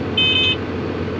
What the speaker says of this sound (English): It's going to beep for a second.